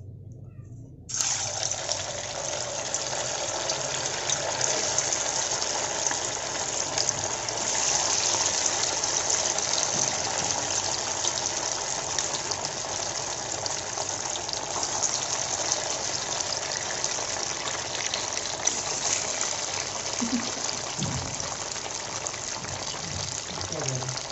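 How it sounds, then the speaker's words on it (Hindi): Soya chaap pieces fry in hot oil in a kadai, giving a loud, steady sizzle that starts after about a second and hisses on continuously without a break. "अब हम उसमें ये थोड़ी थोड़ी करके अपनी सोया चाप डालेंगे"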